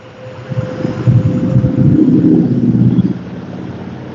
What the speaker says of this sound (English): I want to figure out whose plane that is, because I see it all the time, and I know the sound of it too.